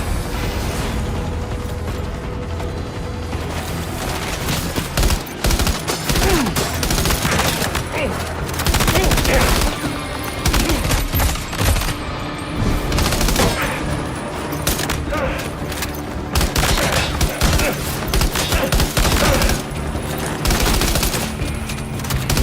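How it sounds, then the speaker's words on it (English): Machine gun fire from a mounted MG emplacement in the video game Death Stranding 2, dense and continuous with overlapping mechanical clatter and a few heavier bursts, loud throughout. "Guy's actually on an MG emplacement."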